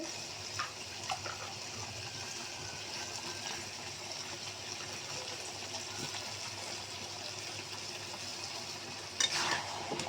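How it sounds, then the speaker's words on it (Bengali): Boal fish and new potatoes fry in a pan, a soft, steady sizzle with faint stirring scrapes, quiet and continuous, with a brief louder rattle near the end. "এখন মাছগুলি দিয়ে দেবো মাছগুলো আমি ভালো করে কষিয়ে নেব"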